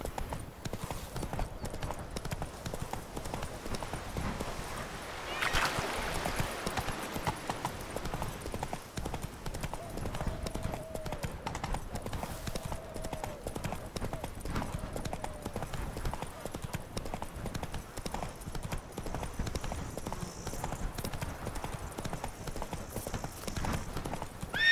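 Hoofbeats of the horse Roach in The Witcher 3 video game, a steady clip-clop rhythm running throughout at moderate loudness under game ambience, with faint brief tones in the middle.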